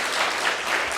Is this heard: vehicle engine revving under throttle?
no